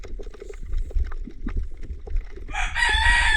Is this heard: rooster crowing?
yes